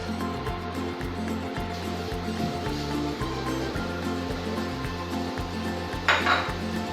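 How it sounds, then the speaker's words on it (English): Chopped onions hit a pan of hot ghee while making coriander vegetable pulao, giving a steady sizzle under rhythmic scraping and clinking of utensils, with a brighter burst of activity near the end; no one speaks. "And that's heated, add in your chopped onions."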